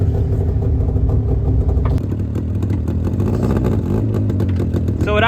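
A Mitsubishi Minicab kei truck's small engine runs steadily and close by, with a change in tone partway through as the truck starts to move, and some clatter over the drone.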